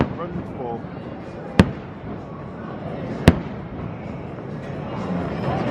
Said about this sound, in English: got to see the fireworks, so that was absolutely brilliant